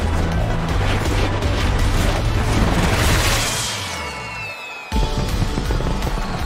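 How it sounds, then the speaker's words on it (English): Fireworks go off in the Fortnite Chapter 3 Season 3 summer, Fourth of July themed area: whistling rising streaks and muffled booms over a steady rush of water and park noise, ending in a sudden cut. "Yo, fireworks?"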